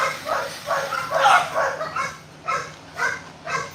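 A dog working on a slatmill barks in a quick run of about seven sharp, nearby yips and barks, spaced unevenly and heard without any talking.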